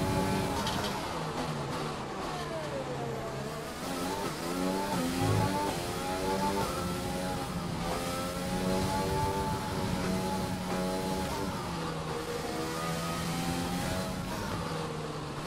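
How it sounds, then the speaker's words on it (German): F1 race car engine revving in F1 2020 during qualifying at the Vietnam circuit, a steady high-pitched engine whine rising and falling in pitch as the throttle is worked, continuous and fairly close. "Deswegen gebe ich gerade auch ein bisschen Gas."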